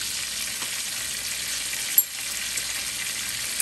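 Steak frying in a pan with garlic and thyme gives a steady, loud hiss and sizzle throughout, with one brief sharper crackle partway through and no talking.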